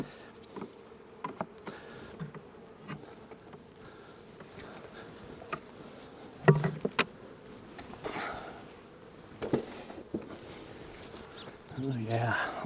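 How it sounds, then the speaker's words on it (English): Honey bees swarm and buzz around an opened hive during an inspection, a steady close drone with sporadic louder passes near the microphone, accompanied by handling noises. "lots of bees."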